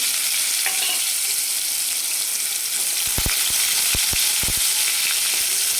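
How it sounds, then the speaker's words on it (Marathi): Chopped onion drops into hot oil with cumin and mustard seeds, a loud, bright continuous sizzle with a cluster of sharp pops and crackles in the second half, heard close and without talk. "लगेच आपण कांदा कट करून घेतला होता ते टाकतो"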